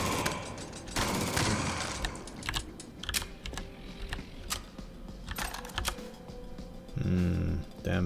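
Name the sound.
Gatling gun firing in the video game Jupiter Hell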